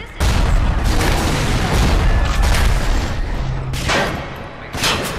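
Shotgun loaded with exploding buckshot firing in Bioshock: several loud, heavy blasts in quick succession with booming, crackling tails, plus a further burst near the end.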